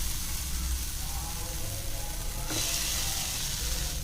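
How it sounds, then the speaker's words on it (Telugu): Moong dal fries in a pan as its moisture cooks off, giving a steady, close sizzle throughout with a brief stir or scrape midway and no talk. "ఇలా నీళ్ళన్నీ పోయిన తర్వాత కాసేపు వేయించుకోవాలి, ఆ తడి మొత్తం పోయే వరకు"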